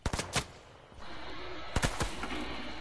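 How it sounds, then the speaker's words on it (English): Gunfire in the video game Fortnite: a quick burst of several sharp shots, a lull with low rumbling ambience, then another cluster of loud cracks, with no voices. "Oh, they're shooting at me."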